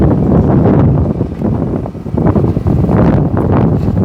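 Strong wind buffets the microphone outdoors beside a house with wooden walls, a steady loud roar and rumble that gusts and dips briefly midway, with no voices.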